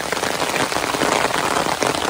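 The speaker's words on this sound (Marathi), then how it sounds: "छत्री नेतो म्हणून चांगला पाऊस स्टार्ट झालेला आहे" Heavy rain pours along a road on the walk home under an umbrella, a loud continuous wash of drops on the surface close around the listener with no talking.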